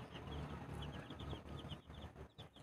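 Clucking from a backyard chicken kept by a family, mixed with other birds and farmyard background noise, steady and moderately close, with no talk.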